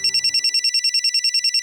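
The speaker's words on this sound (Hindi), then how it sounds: "ये देखो चेतना का फोन।" A phone rings loudly and close, a fast steady electronic trill pulsing evenly about eight times a second, clear and alone with no voices after a brief fading sound at the start.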